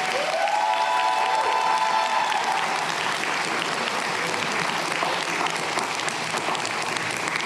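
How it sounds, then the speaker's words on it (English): A convention hall crowd at Comic Con Baltics applauds steadily throughout, a dense and sustained wash of clapping with faint cheering, while a brief tonal whistle or squeal rises early on. "Another round of applause,"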